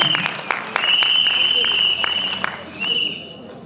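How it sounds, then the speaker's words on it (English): An audience at a theatre, art and storytelling evening in Jaipur applauds. The clapping is broken up by sharp claps, and a sustained high whistle-like tone runs over most of it before it thins out near the end. "I need a round of applause with him."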